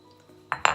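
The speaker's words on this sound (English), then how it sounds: "I'm going to crush my lemongrass. I'll just put it inside here and crush them" Two sharp metallic knocks ring out in quick succession as lemongrass is crushed in a cooking pot, close and bright against a quiet background.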